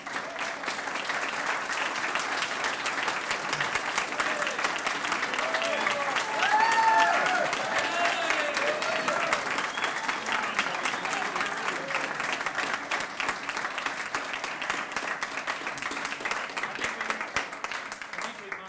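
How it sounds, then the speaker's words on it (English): A lecture audience at The Sydney Institute applauds John Ruddick with sustained, dense clapping. It stays fairly loud and even for nearly twenty seconds, with some talk mixed underneath. "No clapping in front of the camera."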